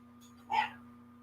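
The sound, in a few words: dogs barking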